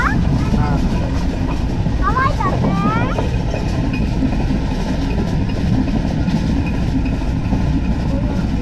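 Steady loud rumble of the Dhumketu Express passenger train running at speed, heard continuously from inside a carriage, with a few faint squeals early on and a voice talking briefly over the roar.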